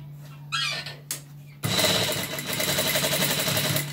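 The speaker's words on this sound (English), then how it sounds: "So now, I'm just going to start gathering this other end." Sewing machine fitted with a gather foot, gathering light tulle for a crinoline ball gown; after a short pause with faint sounds, a steady loud mechanical whirring runs continuously close by.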